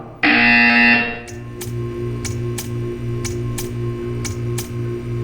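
A loud, harsh electronic buzzer blares for about a second in Portal 2, then a low hum continues with regular sharp ticks.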